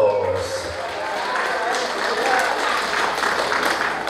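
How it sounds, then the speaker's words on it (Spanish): Party guests at a birthday celebration in San José Río Lagarto, Copala, clap together in a sustained burst of applause that holds steady throughout. "¡Que se escuchen los aplausos!"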